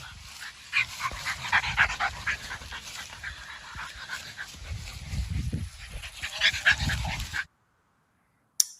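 A dog whimpering and panting during a training session, high thin whines and yips coming in bursts over breathy panting, fairly close, then a sudden stop into near silence with one brief sound at the end.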